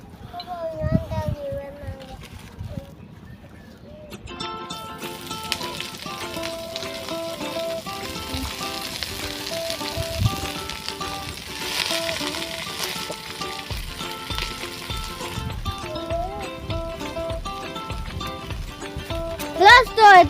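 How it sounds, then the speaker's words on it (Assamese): Chopped cabbage frying in a pan for chowmein gives a steady, close sizzle with bursts of clattering as it is stirred, running under a voice for most of the stretch. "এতিয়া বন্ধাকবি ভাজিম"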